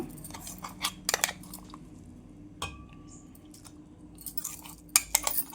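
A ground paste of coriander, curry leaves and ginger is scraped from a utensil into buttermilk in a home kitchen, giving a few soft wet squishes and light clinks of a spoon against a vessel, fairly quiet and close.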